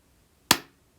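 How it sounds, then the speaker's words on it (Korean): A single sharp hand clap, one crisp close slap with a quick decaying tail, standing alone in a quiet room. "여러분 지금 내가 박수를 쳤는데 소리가 났죠?"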